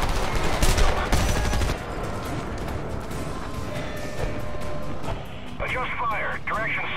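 Heavy gunfire rattles in the Homefront war game as dense bursts of automatic fire and blasts, with radio chatter and voices speaking over the combat.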